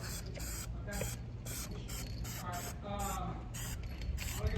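Repeated bursts of aerosol Plastidip spray coating a Revel reading light, short hissing puffs in a steady rhythm, close and fairly loud over a low background hum.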